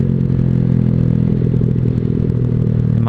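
A Honda Vario scooter fitted with a new roadrace-style exhaust drones loudly and continuously while riding through Pondok Indah, its low rumbling note steady and close with a faint rattling edge throughout.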